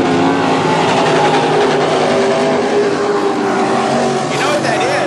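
A loud, sustained race car engine roar at a dirt-track speedway heat race, harsh and uneven from an engine fault, its pitch wavering as the car keeps running.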